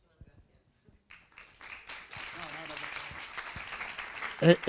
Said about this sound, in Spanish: El aplauso es para ellos